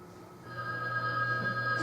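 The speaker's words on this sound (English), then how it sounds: "I have to answer the phone." A telephone rings at home, a steady electronic tone that starts moments in and holds, moderately loud and close, with no voices over it.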